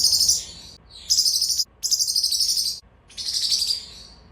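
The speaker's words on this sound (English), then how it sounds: "he does tend to flock call when he wants to know where I am or wants to get my attention" A pet parrotlet perched on a tree stand repeats loud, close flock calls, bursts of high rapid chirping separated by short pauses, with no one talking.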